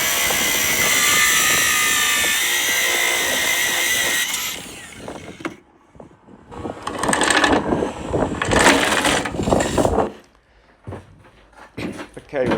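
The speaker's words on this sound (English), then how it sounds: "It's only a matter of time before the grinder came out" Angle grinder cutting into the hull of a Contessa 38 yacht under rebuild, a loud high whine holding for several seconds, then stopping and giving way to bursts of grinding and clattering with a person speaking in between.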